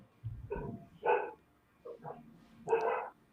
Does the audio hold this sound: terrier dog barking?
yes